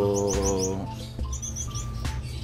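Sparrows and other small birds chirp in quick, high tweets over a low mechanical hum, scattered calls repeating across the moment.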